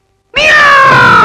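A black cat in a horror film lets out a single loud, drawn-out meow that begins abruptly after a short silence and holds steady to the end.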